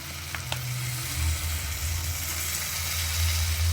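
A snack sizzles and crackles in hot sunflower oil in a pan, a steady close frying hiss with a faint stir near the start, and nobody speaks.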